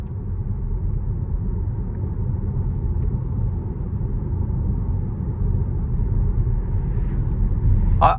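A 2025 Tesla Model Y Juniper on a test drive, with its 20-inch wheels and low-profile tyres giving a steady low road rumble inside the cabin, a quiet and even hum throughout.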